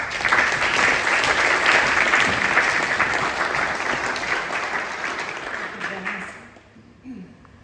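A fundraiser audience greets a speaker with loud, sustained applause and a few cheers. The clapping holds steady for several seconds, then tapers off quickly into a quiet room.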